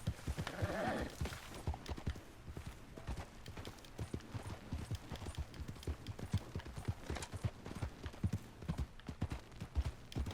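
In Red Dead, a horse whinnies loudly near the start and then trots on with a steady, close clip-clop of hooves that keeps up a regular rhythm to the end, with no voices.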